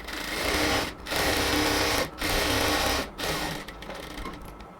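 A sewing machine stitches the legs of palazzo pants, running in steady loud bursts separated by three brief pauses, with no voices.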